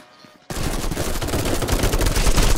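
A Vector submachine gun fired from the hip in the VR shooter Contractors: after half a second of near silence, a sudden rapid automatic burst erupts and rattles on without pause, loud and close.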